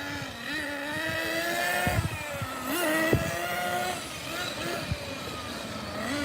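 A Team Losi 8ight 1/8-scale nitro RC buggy engine buzzes with a high, nasal whine that climbs and dips as the car drives, close by and continuous, with a few sharp revs.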